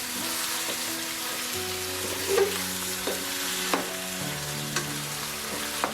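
Country chicken sizzles loudly in hot oil with curry leaves for an Ankapur-style curry, a steady dense frying hiss with a few soft scraping stirs of a spoon in the pan.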